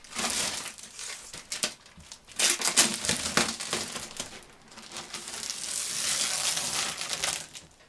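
Protective packaging around a watch winder is handled during unboxing, producing continuous close crinkling, crumpling and rustling with irregular louder bursts throughout.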